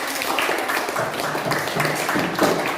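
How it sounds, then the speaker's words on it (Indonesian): Students clapping in a classroom after a group presentation, a sustained, even round of applause from many hands, fairly loud with no speech over it. "tepuk tangan untuk teman yang sudah"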